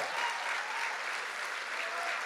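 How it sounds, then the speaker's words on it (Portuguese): Steady applause from a church congregation, continuous clapping that holds at an even level for the whole stretch. "Essas palmas aí é muito fraco."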